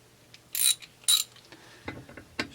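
A ratchet clicks in short, sharp bursts while loosening bolts on a Husqvarna 262XP chainsaw being dismantled, two distinct ratcheting runs followed by softer scattered clicks and taps.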